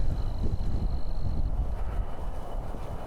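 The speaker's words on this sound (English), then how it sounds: "lots of wind here today" Strong wind buffets the microphone at Kessler Mountain Regional Park in Fayetteville, Arkansas, a loud continuous low rumble that swells and eases without pause, with no voices.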